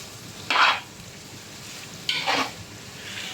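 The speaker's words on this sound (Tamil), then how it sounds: "சேர்த்து இதுவும் ஒரு நல்லா மிக்ஸ் பண்ணி விட்டுடலாம்." Thick curd being mixed into a beef biryani mixture in a pot, two brief scraping stirs over a steady low background hiss.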